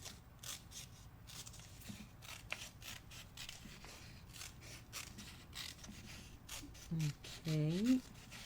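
Scissors snip and slide through P3 tape in a string of small close crisp cuts, quiet and soft, with a person speaking briefly near the end.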